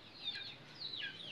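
Week-old chicks peep and cluck softly in a rain-dampened backyard, a few thin high calls close by over a quiet background.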